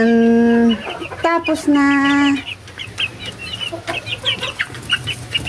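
Backyard chickens cluck and squawk as feed is scattered, a loud harmonic call opening near and then busy chattering clucks throughout, with a brief spoken phrase in the middle.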